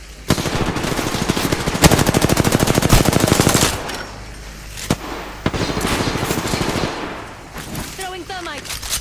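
Gunfire in the shooter game Apex Legends, long rapid automatic bursts with single sharp shots between them, loud and near, broken by short pauses and a voice talking.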